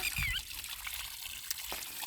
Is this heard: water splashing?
yes